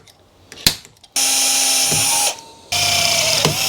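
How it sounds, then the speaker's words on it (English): A click, then a power drill whines at full speed for over a second, pauses, and spins up again in a second burst, drilling a hole for an oil cooler on a Toyota Altezza drift car. "that's where I'm going to drill my hole"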